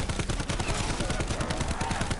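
Rapid gunfire bursts in a video game, a loud, continuous rattle of closely spaced shots sounding like sustained machine-gun fire with no pauses or talk.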